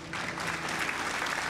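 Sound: applause

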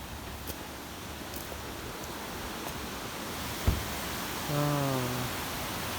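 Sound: water falling

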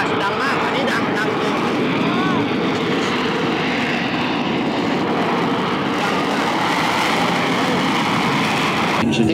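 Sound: F-35B military jet hovering at Miramar Air Show

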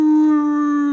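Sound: man howling imitating a dog

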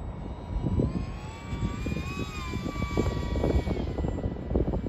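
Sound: modded FT Spear RC model airplane flying overhead

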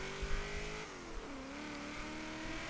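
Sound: 1977 AMC Pacer X engine in Forza Horizon 3 video game

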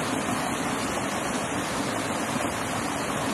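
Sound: waterfall

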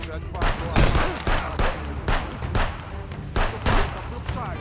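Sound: gunfire from a pistol in the video game Contraband Police

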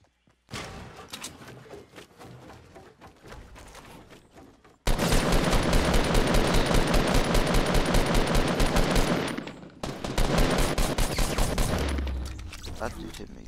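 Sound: gunfire in Fortnite video game, player hit by headshot

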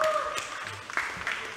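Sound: audience applause for new kickboxing champions

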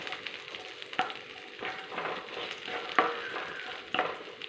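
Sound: sautéing vegetables in a pan for brinjal curry

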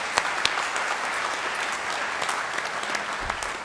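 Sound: audience applause for an outstanding student at an awards night

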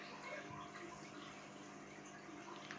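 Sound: water squeezed out of soaked puffed rice

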